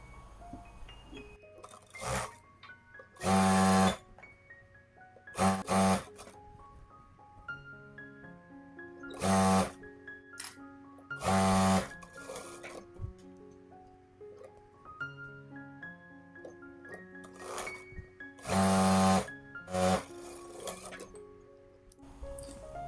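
A sewing machine stitches the hem of a palazzo trouser leg in several short bursts separated by pauses, as fabric is repositioned between runs, with music playing throughout.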